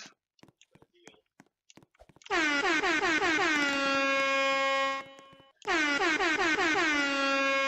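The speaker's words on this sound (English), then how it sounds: "It's like the air horn." Two long, blaring air horn blasts from the Attack on Albert video game, very loud and sustained with a short gap between them, after some quiet clicks and rustles.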